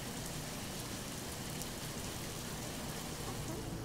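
Rain falls steadily outside a car at a wedding, heard from inside as an even, dense patter on the roof and windows, continuous and unbroken with no voices.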